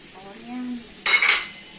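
Stir-frying beef in a pan, with a brief clink of a utensil against the metal followed by a short loud burst of sizzling as food hits the hot pan.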